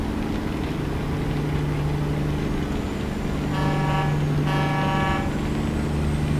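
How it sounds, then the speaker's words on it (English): A truck's air horn in American Truck Simulator sounds in two short honks over a constant diesel engine drone and road noise, fairly loud and close. "Give my horn a good honk."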